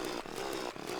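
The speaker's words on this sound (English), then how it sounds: "Moving on, you have the chainsaw, which does 162." Chainsaw from the Terraria video game, a loud buzzing motor whine cutting continuously over a second, with a brief dip partway through and then resuming.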